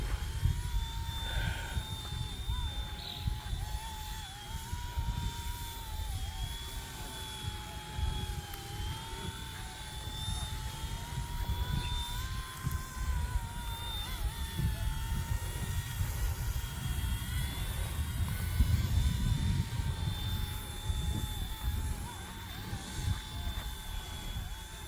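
An RC ERA 186C PRO radio-controlled helicopter flies with a steady high motor whine and whirring rotor, held at throttle throughout, with a rumbling wind-like low noise underneath and no talk.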